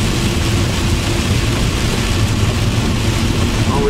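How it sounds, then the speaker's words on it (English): Heavy rain pours over a car on the road, a dense, steady wash of hiss over a low engine and road rumble, continuous and even throughout. "it's slightly pissing down"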